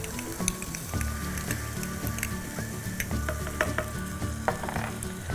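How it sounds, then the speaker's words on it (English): Szechuan paste fries in a hot pan for soupy coconut-broth noodles, giving a loud, continuous close sizzle with crackling pops and occasional stirring scrapes. "Now we're going to add the Szechuan paste."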